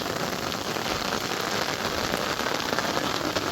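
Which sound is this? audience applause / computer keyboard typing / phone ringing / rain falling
rain falling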